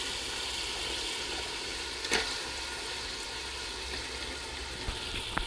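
Meat dropped into hot masala in a pan, giving a steady, moderately loud frying sizzle with occasional small pops and stirring clatter, no voices.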